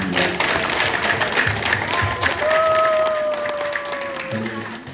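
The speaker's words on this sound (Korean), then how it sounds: "김영현 의원께 박수 한번 부탁드리겠습니다" Applause from residents at a Korean neighbourhood gathering honouring a city council member, a loud, continuous patter of clapping with murmuring voices and a faint sustained tone running underneath.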